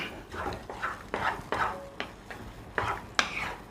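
Rava kesari being stirred in a pan, with repeated rhythmic scraping strokes of a spoon against metal, about seven close sweeps in steady succession, with no talk.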